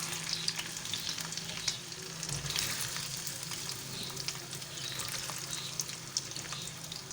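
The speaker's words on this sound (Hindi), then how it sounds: "इसी तरह सब आलूओं को फ्राई कर लेंगे" Potatoes frying in a pan for spicy fried aloo, a steady close sizzle with occasional crackles and stirring, no voices.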